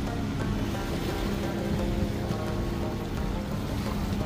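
Speedboat racing at high speed across Upper Kachura Lake near Skardu, a steady loud engine roar blended with rushing water and wind noise throughout, with no talking.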